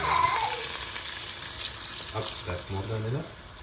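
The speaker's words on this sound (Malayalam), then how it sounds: "അപ്പോൾ ഇതിനകത്തോട് സ്വല്പം വെള്ളവും കൂടി ഒഴിച്ചു കൊടുക്കാം" Water poured into a pan of sizzling Kerala-style crab roast, a steady frying hiss with running-water noise, while a voice talks over it.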